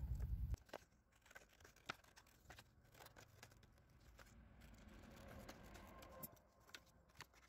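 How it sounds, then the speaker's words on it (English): Scissors cutting a paper art print down to size, with quiet, scattered snips and rustles over faint background noise. "To fill the frame, all you have to do is cut the print to size"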